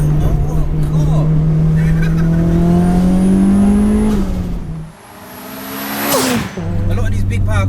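A 630 bhp Mitsubishi Evolution VI accelerating hard at high speed, its engine note climbing steadily through a long pull, then a brief dip and gear change before the drone resumes, loud and close from inside the car.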